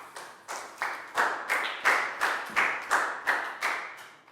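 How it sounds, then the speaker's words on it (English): Classroom applause for a pupil during a Year 4 English lesson, a run of about eleven brisk, evenly spaced claps from a small group, close and clear, without speech. "High five and a big round of applause for Chu"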